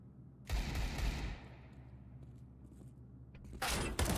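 Gunfire in a Counter-Strike match at the PGL Major Krakow 2017, a sharp loud burst of shots followed by a fading rattle and a second burst near the end, with no talking.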